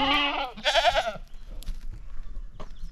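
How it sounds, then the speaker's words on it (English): Goats eating fresh greens on a mountain homestead let out two loud, close bleats one after the other, followed by quieter rustling and chewing noises. "the goats are over here going crazy"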